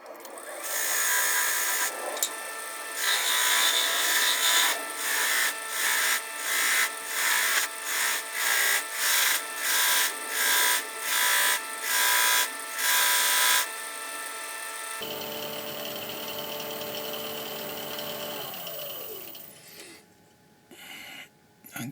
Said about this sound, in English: This last one, the buffing wheel, is carnauba wax.